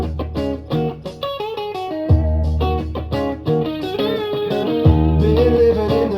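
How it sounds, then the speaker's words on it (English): A loud rock band plays with distorted, effected guitar over a steady drum beat, with harmonic vocal-like lines weaving through and a thumping low end. "the guitar and the drums and the vocals together sound like this"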